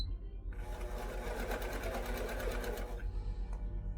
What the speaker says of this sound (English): I'm going to turn the green light on, and this is going to start stitching